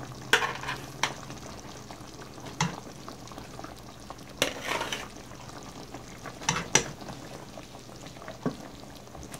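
Hamburger patties fry in a hot pan for smothered hamburger steak with onion gravy, a steady close sizzle broken by several sharp clanks and scrapes of a utensil against the pan, with no talking.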